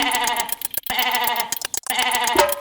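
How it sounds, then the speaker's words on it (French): A sheep bleats loudly and close up in several wavering calls, separated by short gaps. "Le mouton."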